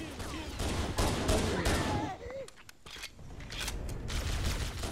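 Rapid bursts of gunfire from Halo: Combat Evolved crackle in dense volleys, with mechanical clatter mixed in and fainter shots trailing off, all at a steady, fairly loud level.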